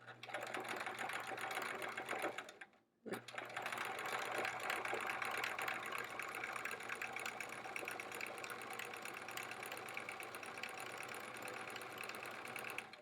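A sewing machine stitches continuously while free-motion quilting swirls on a quilt-as-you-go block, a steady close whirring hum with one brief pause near the start, and no voices.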